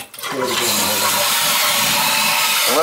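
A toilet with a noisy copper ball valve fills with water, a loud, close rush and hiss that starts abruptly and keeps running steadily to the end.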